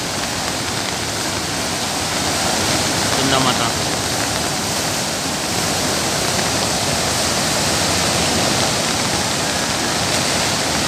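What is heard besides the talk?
heavy rain pouring at Sundha Mata temple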